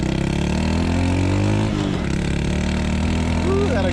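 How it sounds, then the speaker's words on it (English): Honda Super Cub motorcycle towing a loaded trailer at road speed, its noisy exhaust droning steadily with a slight rise in pitch, close and loud with wind rush. "that exhaust is noisy"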